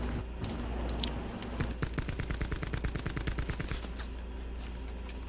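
Enemy gunfire in Black Ops 4 Blackout, a fast rhythmic burst of automatic shots in the middle, fairly quiet and distant, with sparse single shots around it.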